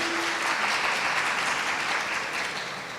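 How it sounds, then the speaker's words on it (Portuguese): Audience applauding after a startup project presentation on stage at a pitch event, a steady, dense crowd clap at moderate loudness that eases slightly toward the end, with no talk. "Obrigado. Palmas."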